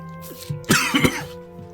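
A single close cough, short and throaty, followed by a brief exhale, with nobody talking.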